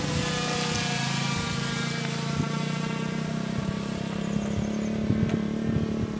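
A 4-inch PVC radio-controlled model airplane engine at half throttle with a 13.7 x 12.8 prop, running as a steady, continuous buzzing drone with slight wavering pitch throughout, fairly close and loud, with no talk over it.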